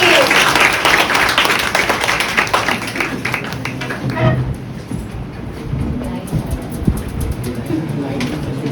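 A room full of people at an anniversary event claps for about four seconds, then the applause fades as someone starts talking.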